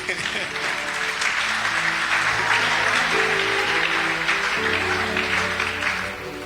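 A church congregation applauds and cheers the Lord, a sustained wash of clapping from many hands over several seconds, with a background musical drone and voices, easing slightly at the end.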